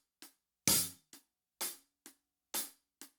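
Closed hi-hat strokes in a drum groove, played as crisp, short bright ticks spaced unevenly across a few seconds, with one louder, fuller hit near the start, heard close and alone.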